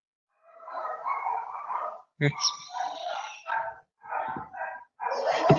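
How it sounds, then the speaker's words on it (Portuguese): A small dog barks and yips at home in a string of short, sharp bursts with brief gaps between them, heard close by. "Tem cachorrinho em casa, que fofo."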